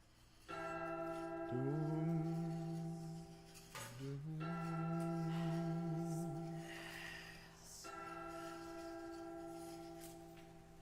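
Sustained bells ring in a staging of The Hunchback of Notre Dame musical, a steady resonant tolling with sliding held tones that carries on for about ten seconds, loud and unbroken with no talk over it.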